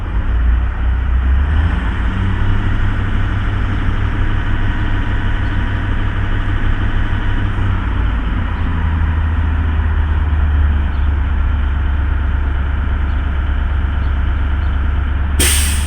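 A bus engine idles while its air compressor builds brake pressure up to governor cut-out, a loud, steady low rumble throughout that ends with a sudden sharp burst of air.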